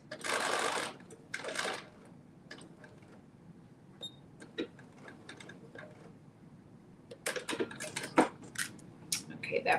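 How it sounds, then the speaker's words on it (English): A sewing machine makes a short line of stitching on a dress bodice, brief close bursts of rapid clatter at the start and end, with soft ticks and handling noises between. "Just stitching that in between those 2 dots."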